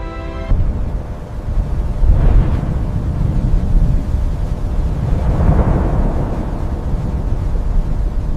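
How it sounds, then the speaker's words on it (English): A violent storm rumbles and roars continuously, with deep booming surges like thunder rolling over churning wind and water, loud and close with no voices. "The storm fully reveals its power."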